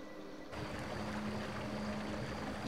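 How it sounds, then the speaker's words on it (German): A babbling stream in The Night of the Rabbit game runs as a soft, steady watery wash, fading in after a brief quiet moment and continuing evenly at low level with no talk. "Hier sind Geräusche, Wasserfallgeräusche, also Wassergeräusche"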